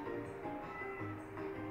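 Cat meowing in the video game Catlateral Damage, a short run of clear, fairly loud meows repeating over steady in-game background sound, with no talking.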